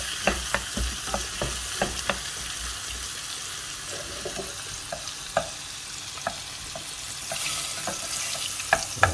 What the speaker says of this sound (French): pendant que le beurre est en train de fondre